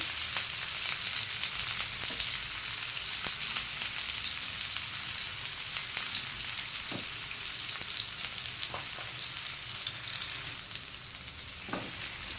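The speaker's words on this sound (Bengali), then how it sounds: "পেঁয়াজটা ভেজে নেবো, খুব কড়া করে ভাজবো না বা খুব লাল করে ভাজবো না" Onions sizzle steadily in hot oil, with occasional scrapes and stirring clicks from a spatula against the pan.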